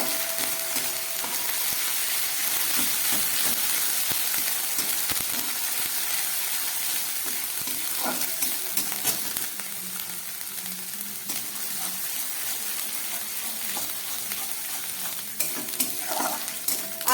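Ginger paste stirred into garlic frying in hot oil in a pan, a steady soft sizzle with occasional scraping and stirring clicks, close and continuous throughout.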